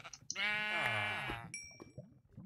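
A sheep in the Minecraft video game gives one drawn-out, wavering bleat, close and clear, followed by a few soft game sounds.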